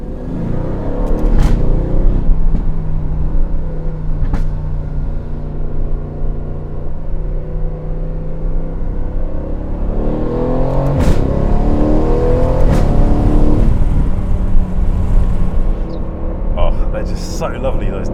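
Aston Martin supercar engine blipping through paddle-shift downshifts, a loud, continuous revving roar with rising and falling pitch sweeps and a sharp crack near the middle.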